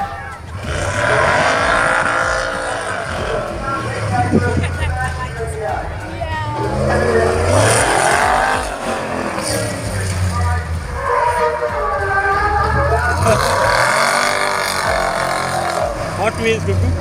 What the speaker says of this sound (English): Warmed up the cars here.